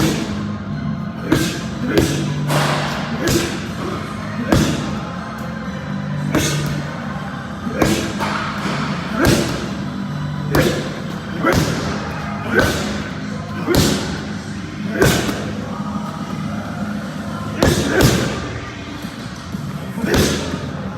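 Heavy punches thud into a training bag in a boxing or striking session, landing as repeated loud close impacts in irregular bursts over about twenty seconds, with breathing and movement noise between the strikes.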